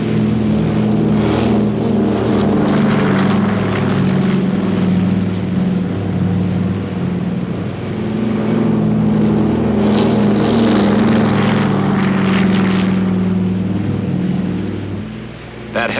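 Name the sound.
military planes launching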